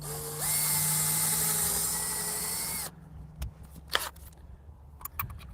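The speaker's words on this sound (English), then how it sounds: "we're just going to pre-drill a couple holes" A power drill whines at high speed for about two and a half seconds, slowing slightly as it pre-drills a hole in wood for a chicken nesting box, followed by a few clatters and knocks.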